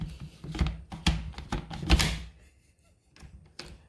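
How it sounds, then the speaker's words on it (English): An 18-volt Makita battery slides and snaps into a cordless chainsaw. Several sharp plastic clicks and clacks sound close by, then a short fumbling rattle follows. "Snaps and locks in very easily."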